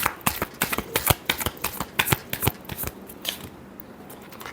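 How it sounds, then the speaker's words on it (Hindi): Tarot cards shuffled by hand, a quick run of crisp riffling flutters in close succession, close and clear, that slows and softens toward the end. "Last shuffle."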